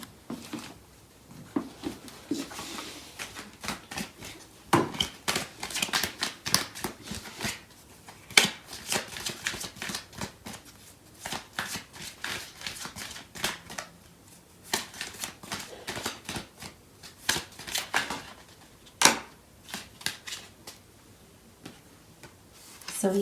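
Tarot cards being shuffled up close, with repeated soft riffling bursts and taps in an uneven rhythm for the whole stretch.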